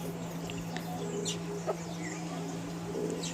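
Native country chickens and young chicks cluck and peep softly over a low steady hum, with scattered short calls close by.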